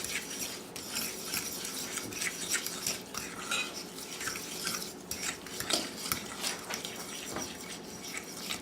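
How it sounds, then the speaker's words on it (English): A fork whisking melted butter into brown sugar in a bowl, a continuous close-up rattle of metal tines scraping and tapping the bowl in quick irregular strokes, with no voices. "I just use a fork and I whisk it around, break up the brown sugar and whisk it around"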